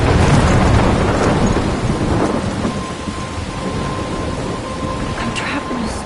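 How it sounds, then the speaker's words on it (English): Thunderstorm with rain in the Life is Strange video game: a heavy rumble of thunder opens over steady, hissing rainfall, and the downpour continues loud and close after the thunder fades. "I'm trapped in a storm?"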